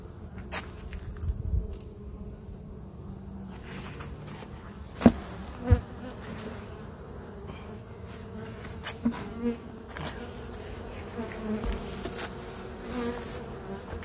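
Honey bees buzz around an opened hive in a faint, steady hum, with a few soft knocks and clicks of hive handling breaking through at moments and no talk.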